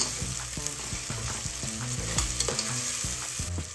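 Tomato frying in a pan for veg pulao while a spoon stirs it, a loud close sizzle broken by repeated scraping strokes against the pan in a fairly regular rhythm.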